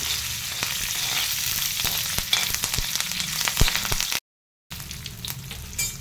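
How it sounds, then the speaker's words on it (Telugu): Cumin seeds and curry leaves sizzle steadily in hot oil for a Telugu tomato roti pachadi, with scattered crackles and pops over a dense frying hiss, briefly cutting out near the end before resuming. "జీలకర్ర కూడా 2 నిమిషాలు వేగిన తర్వాత కరివేపాకు అయితే వేసుకోవాలి."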